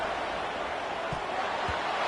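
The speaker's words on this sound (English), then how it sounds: "How nice is it to have the home crowd going absolutely bananas?" A home crowd at a college football game against South Carolina roars loudly and steadily, a broad wash of cheering with a couple of brief low thumps.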